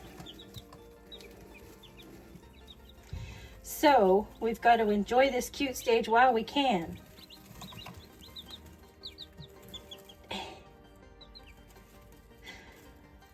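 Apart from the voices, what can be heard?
baby chicks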